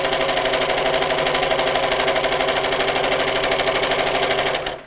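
A sewing machine runs steadily, stitching close along the piping on a Christmas bauble appliqué cushion, a continuous near mechanical whirr with rapid even needle rhythm that stops abruptly at the end.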